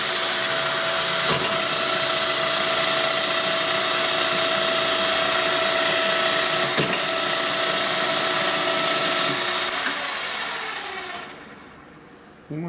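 Rapid mechanical ratcheting and whirring from a cylinder boring machine as a fixture is unscrewed during boring of a Harley twin cam big bore cylinder, loud and continuous for most of the span with a few sharp clicks, then trailing off near the end.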